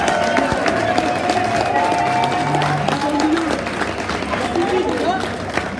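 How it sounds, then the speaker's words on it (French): An audience gives a sustained round of applause at a French-language event, with claps spread across a noisy crowd and voices and cheering blending underneath. The sound fades slightly toward the end. "je voudrais que vraiment vous applaudissiez les Arts Liés, Philippe et tout le monde."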